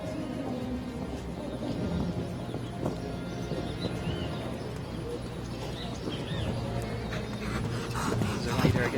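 Horse hooves thud and clip-clop on the footing of a show jumping arena at an international event in Guadalajara, Mexico, steady and mid-distance beneath commentary and crowd ambience.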